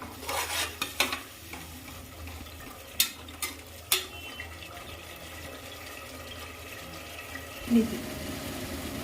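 Masala sizzles in hot oil while a spoon stirs it, with intermittent scraping knocks against the pan over a continuous frying hiss, close up and moderately loud.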